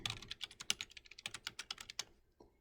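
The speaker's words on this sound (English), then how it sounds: "I can go and type in my Gmail account" Someone types an email address on a computer keyboard: a quick, close run of crisp key clicks in an uneven rhythm that stops briefly near the end.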